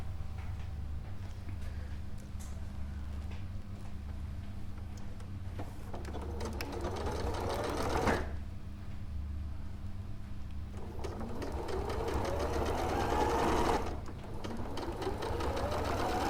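A sewing machine stitches along the edge of folded fabric to form a tube, running in steady bursts with brief pauses between, close up and fairly quiet, with no talk over it.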